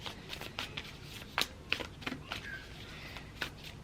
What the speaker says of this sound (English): Let's pull some self-care cards for my Taurus.